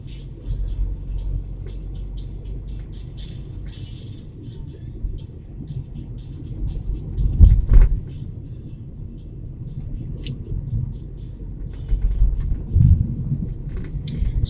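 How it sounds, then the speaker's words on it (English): Midday city-centre traffic in Leeds is heard from inside a moving car, with a low steady road rumble and a few louder swells as nearby vehicles pass. "there's still traffic everywhere."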